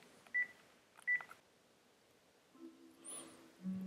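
A softphone in a turboDial inbound-calling demonstration dials out, with two short, crisp keypad beeps about a second apart, then faint electronic tones follow in a quiet room.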